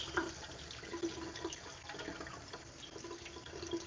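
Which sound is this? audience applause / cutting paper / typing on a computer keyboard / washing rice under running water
washing rice under running water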